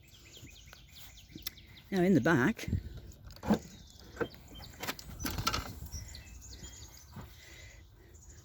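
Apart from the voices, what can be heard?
birds singing outdoors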